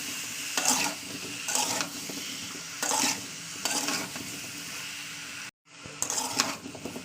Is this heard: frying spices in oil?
yes